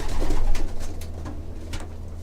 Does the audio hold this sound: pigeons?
yes